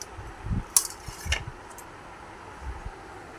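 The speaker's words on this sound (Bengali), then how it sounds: "তো আলুর চাটটার জন্য একটা প্লেট নিয়ে নিলাম" A plate lifted and set down on a kitchen counter while preparing potato chaat, giving a few faint clinks and soft knocks against a low steady fan hum.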